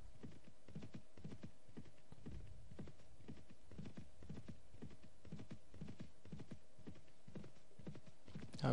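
Horses gallop in the Mount and Blade Warband video game, a continuous quiet drumming of hoofbeats in a rapid, rolling rhythm with a faint hum underneath, no talk.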